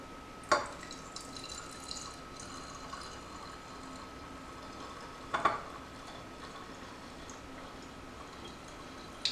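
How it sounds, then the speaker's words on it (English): Water from a two-cup measure pours into a plastic spray cleaner bottle, a soft steady trickle with a couple of sharp clunks as the bottle or cup is handled. "I am just going to put in 2 cups of water."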